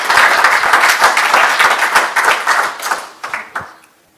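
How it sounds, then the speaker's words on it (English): Crowd applause, dense clapping from many hands that thins out into a few scattered claps before fading. "A round of applause"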